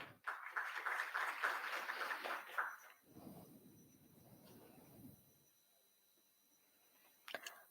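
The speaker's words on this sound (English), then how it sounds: "Can we have a round of applause for him?" Applause from a crowd at a fire services expo for about three seconds, fading into quieter scattered clapping and then near silence.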